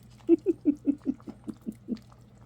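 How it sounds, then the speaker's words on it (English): Cooked potatoes in potato soup get mashed with a steady run of about nine soft, squelchy thumps, close and moderately quiet, with no talking. "But I like to mash my potatoes down a little bit."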